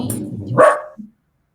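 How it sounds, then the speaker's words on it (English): A pet dog gives one short, close bark with a brief yelp, then falls silent. "Oh, is that your lovely dog?"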